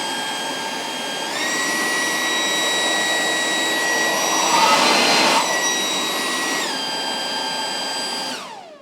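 A Toro 60V cordless leaf blower running at full power with boost, a loud close whining roar with high tones that step up as it ramps, holding steady before spinning down at the end.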